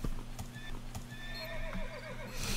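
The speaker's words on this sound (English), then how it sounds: "Yeah, I heard the horse." Horse hooves clip-clopping in CS:GO, with a whinny rising over the steady trotting, fairly close and clear, with game ambience and a few sharp clicks around it.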